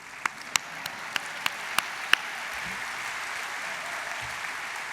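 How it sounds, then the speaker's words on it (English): Graduation ceremony audience applause, a steady broad wash of many hands clapping with a few sharp individual claps standing out early, moderately loud and continuous. "Now you can clap."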